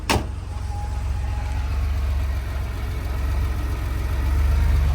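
A 1984 Porsche 911 Euro-spec convertible fires up with a short sharp crank-and-catch burst, then settles into a steady, close, rumbling idle that holds evenly and swells slightly toward the end.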